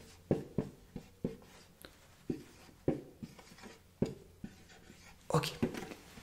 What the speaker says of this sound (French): Alors je vais dessiner des numéros.